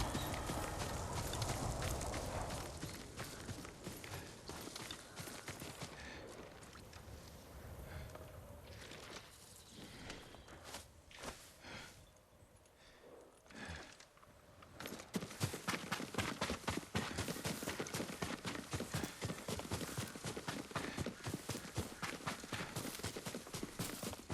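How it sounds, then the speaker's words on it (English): Horse hooves clip-clopping across the ground in the Ghost of Tsushima video game, a quiet dense run of hoofbeats that thins out midway and then returns as rapid, even clopping. "Yuriko's horse."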